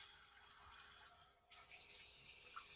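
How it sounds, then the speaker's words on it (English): Hot water poured into a dark caramel-colored roux for New Orleans seafood gumbo, a steady rushing stream that briefly dips mid-pour and resumes, close and fairly quiet with no voices. "Now we're going to add a little hot water to it and watch what it does."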